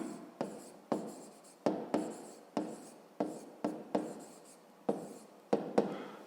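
A pen writes an equation by hand on paper in a fifth-grade maths lesson, close and quiet, with a series of short scratching strokes and taps in an uneven rhythm.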